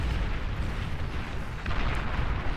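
Battle explosions from the real-time strategy game Beyond All Reason: a dense, continuous roar of booming blasts and rumbling detonations, loud and unbroken for the whole stretch, with no voices.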